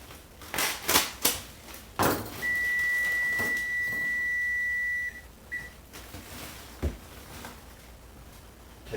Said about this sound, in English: we'll steam it in the microwave for about 3-4 minutes